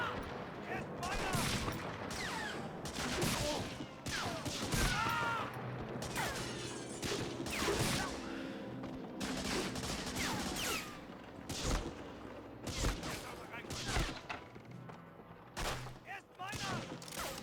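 Gunfire in the Medal of Honor: Frontline video game, dense bursts of shots and rattling automatic fire amid battle noise, with voices talking over it.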